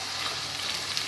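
Onions and meat hiss steadily in a hot pan as tomato paste goes in for a Turkish okra stew, a close, even, broadband sizzle with no talk over it.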